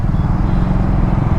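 Triumph Scrambler 400X motorcycle engine held in second gear with the clutch in, a steady, loud low rumble throughout with a slightly uneven throb and no voices.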